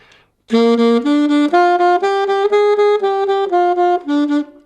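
A saxophone plays a run of even, detached eighth notes in a steady rhythm, stepping up then back down, close and clear with no talking.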